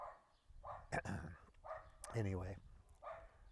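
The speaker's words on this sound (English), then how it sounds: "It's almost impossible to find a place in the countryside where one can sit and talk to a camera without dogs barking in the background" Dogs barking in the countryside in short repeated bursts behind a person talking close by, the barks moderately faint under the voice.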